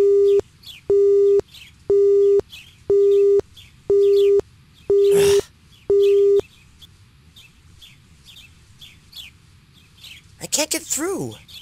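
Telephone busy signal in the Inuyasha video game, seven evenly spaced electronic beeps in a steady rhythm, loud and close, followed by a quiet stretch and a burst of chirpy game sound effects at the end.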